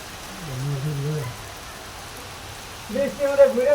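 Light rain patters with a soft, constant hiss in Jamuna City Park in Jamalpur, running faintly beneath people chatting at the start and again near the end.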